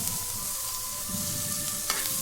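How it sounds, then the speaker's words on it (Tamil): Onions sizzling in hot oil in a pan while being stirred for a Tamil meen maker gravy, a steady close frying hiss with scraping stir strokes and a faint tonal hum behind. "ஆனியனும் போட்டாச்சு. நல்லா வணக்க வேண்டியதான் ஒரு 5 நிமிஷத்துக்கு."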